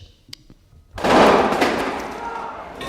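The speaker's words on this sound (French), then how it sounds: "Il y a eu des coups de feu, non ?" Gunfire in a scene from the French film La Cache: a sudden loud burst erupts after a brief quiet moment, then a lingering rumbling decay.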